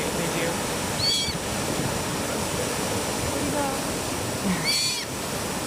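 Steady ocean surf roars across the whole stretch, a dense continuous wash, with faint high chirps and squeals from sea otters rising briefly above it.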